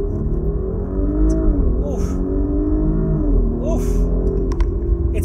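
A 2020 Audi S5 Sportback pulls away hard in a launch-control start, its engine note a steady, loud close rumble climbing through jerky gear shifts, with a voice briefly speaking over it.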